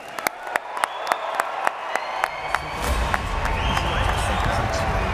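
A stand-up comedy crowd claps in a slow, even beat of distinct handclaps, then swells into a dense, loud wash of applause and cheering that continues to the end.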